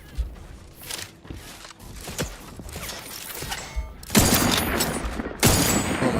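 Gunshots in The Outer Worlds 2 crackle through a busy fight, with scattered sharp reports and clanking movement first, then two louder heavy bursts of fire near the end.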